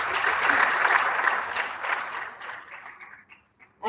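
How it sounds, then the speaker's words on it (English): An indoor audience at a waste innovation challenge launch applauds a panel, a dense burst of clapping that holds steady, thins out and fades, then a brief loud sound at the very end. "Please give our wonderful panel a round of applause."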